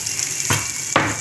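Sugar caramelizing in butter in a pan, a faint steady sizzle punctuated by two short bursts of louder hissing as something is stirred or added.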